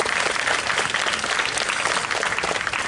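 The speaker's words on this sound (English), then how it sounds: "So give yourselves a round of applause." Students at a university orientation keynote give loud, steady, dense applause filling the hall without pause.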